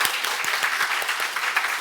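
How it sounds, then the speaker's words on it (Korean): A church congregation clapping together, dense and continuous applause with sharp individual claps, fairly loud and close, with no voices over it. "박수 칠 준비하세요"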